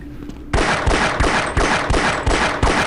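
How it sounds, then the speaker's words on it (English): Rapid automatic gunfire from a Half-Life shootout against enemies, a loud close burst of repeated shots in a steady rhythm after a brief quiet start. "I've got plenty of ammo, so I can shoot all these out."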